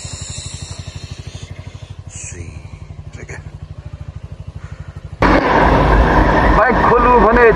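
A Hero XPulse Pro motorcycle idles with a steady, rapid single-cylinder thump in Lower Mustang, then loud rushing wind roars in as the bike moves off.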